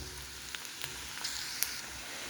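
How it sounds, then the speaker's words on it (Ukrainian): Onion frying in olive oil for borscht sizzles with a quiet, even hiss broken by a few faint pops and stirring clicks, with no one talking. "Далі цибульку прожарюємо. Тепер вона трошки прожариться"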